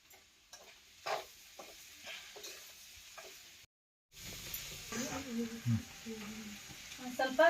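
Vegetable palya frying in a pan with coriander powder and salt, soft sizzling and stirring scrapes coming in short bursts, a brief silent gap, then louder clattering stirring near the end.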